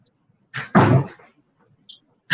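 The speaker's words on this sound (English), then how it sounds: "this Shivani, just shut the door, please." An indoor door is shut with a single firm thud, a brief softer sound before it and a faint tap after, in an otherwise quiet room.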